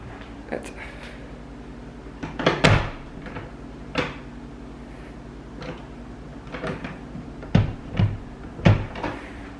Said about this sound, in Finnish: piti vaan tsekkaa, että osaaks mä lukita tuon oven